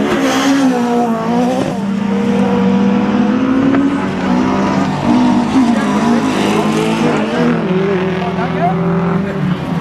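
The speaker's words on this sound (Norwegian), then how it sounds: "Ser vi han vår svenske venn, han Jarl Tore kjører hovedsporet og tar løs på sin siste runde og skal kjøre alternativt da" A rallycross car runs its final lap at a Røssvoll race, with a steady engine roar and shifting revs throughout while a commentator talks over it.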